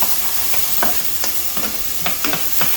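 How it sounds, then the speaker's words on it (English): Garlic frying in a pan with onions and mushrooms, a steady close sizzle broken by several clicks and scrapes of stirring. "I love the smell of cooking garlic"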